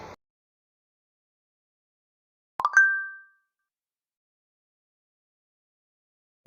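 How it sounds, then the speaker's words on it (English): Android notification tone named Popcorn, an older Android alert sound: a single short bright plop-like chime that rings briefly and fades, alone in otherwise near silence. "Take a listen to the old notification tone called popcorn."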